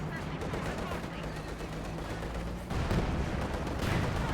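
Cannon and gunfire in the World War II strategy game Company of Heroes 2 during a battle involving tanks and field guns, a dense continuous rumble of distant shots and explosions with a heavier burst partway through.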